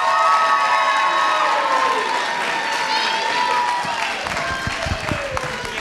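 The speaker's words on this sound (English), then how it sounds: "Please join me with a warm round of applause to welcome Kyrah." Cheering and applause from a youth kickoff event crowd, loud and sustained throughout, with shouts and voices mixed in as the audience welcomes a keynote speaker on stage.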